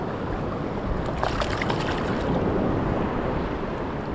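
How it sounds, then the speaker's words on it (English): Rough, closely spaced ocean surf rolls in steadily at a Galveston, Texas beach, a constant broadband wash with wind buffeting the microphone and no talking. "We're battling waves. They're pretty rough."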